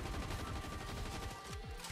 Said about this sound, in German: aber das sind noch Schüsse in der Richtung irgendwo